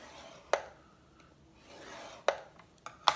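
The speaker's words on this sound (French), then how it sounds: "On va faire un trait à 2 inches." A pencil is drawn along a ruler in a quiet room, giving soft scratchy strokes punctuated by a few sharp taps, close and faint, with no talking.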